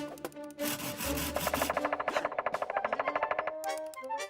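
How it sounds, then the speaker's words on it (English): A cartoon mechanical woodpecker hammers its head against logs in a fast, even burst of sharp knocks, loud and alone, like a rattling drill, after a brief grinding lead-in. "Why does it keep banging its head against the logs like that?"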